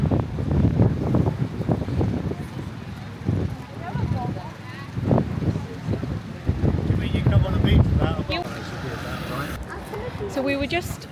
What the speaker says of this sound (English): It's a very windy day though.